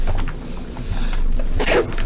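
A single sharp sneeze bursts out near the end, loud and close, after a stretch of quiet room noise during a committee meeting.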